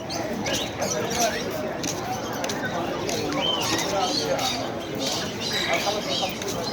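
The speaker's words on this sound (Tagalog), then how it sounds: "Sa umaga pala maraming tindang mga ibon." Caged birds for sale at a market in Dammam, Saudi Arabia, chirping and cooing in scattered bursts beneath continuous nearby talk and general crowd bustle.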